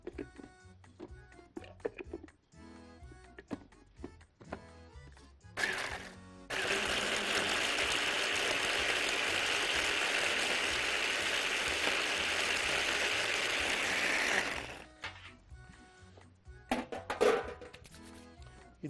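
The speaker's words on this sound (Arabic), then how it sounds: "هطحنها، او لو عندكم مطحنة توابل شغال الاتنين هيشتغلوا معاكم" Electric spice grinder whirring as it grinds dried rosemary, a steady loud burst of about eight seconds between clicks and handling noises.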